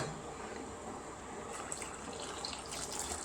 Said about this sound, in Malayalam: ഇനി ചെയ്യേണ്ടതെന്ന് വെച്ചിട്ടുണ്ടെങ്കിൽ വെള്ളം ഒഴിച്ചു കൊടുക്കാം.